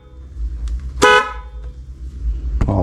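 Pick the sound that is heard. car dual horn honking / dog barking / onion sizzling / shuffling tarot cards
car dual horn honking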